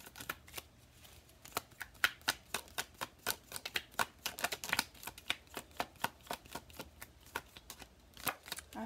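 Tarot cards being shuffled and drawn, a steady run of crisp riffling snaps and flicks repeating at close range with almost no talk.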